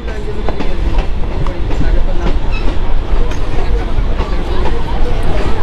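A Howrah–Tarakeswar local train pulls into Tarakeswar station with a loud, continuous rolling rumble and rhythmic wheel clatter, heard from on board under a busy murmur of crowd voices.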